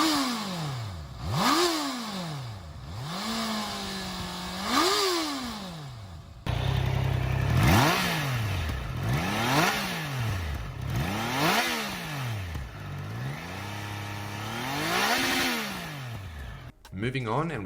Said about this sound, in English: Let's also have a listen to the stock exhausts of each.